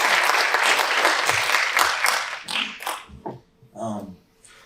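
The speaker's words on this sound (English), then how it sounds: "let's give a big applause as he comes to" Conference audience applauding a speaker at a decarceration event, dense clapping for about three seconds that thins into scattered claps, with a voice starting to speak as the applause fades.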